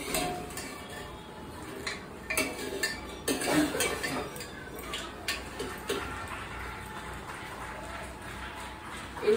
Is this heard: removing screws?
no